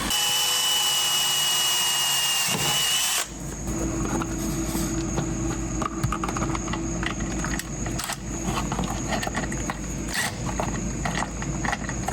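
A power drill boring a pilot hole with a small bit while installing brakes on a cargo camper trailer, a steady loud whirring grind with slight fluctuations, running continuously after an initial higher-pitched burst.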